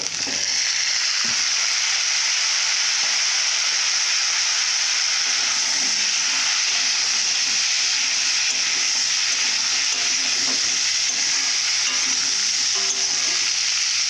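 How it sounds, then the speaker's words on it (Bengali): Potato pieces fry in a pan for a banana curry, giving a close, unbroken sizzle and hiss that holds steady throughout, with faint occasional stirring and no talking. "এখানে আলুটা ভালো করে ভেজে নিতে হবে।"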